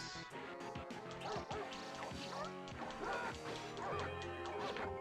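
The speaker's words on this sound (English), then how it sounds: "Dogs." Dogs barking in Teenage Mutant Ninja Turtles: Turtles in Time, a run of sharp yips and barks over busy game music with hits and crashes throughout.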